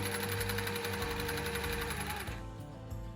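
A Juki TL 2010Q sewing machine runs fast and steadily with a rapid mechanical whirring rattle, close and loud, then slows and winds down near the end; no one talks.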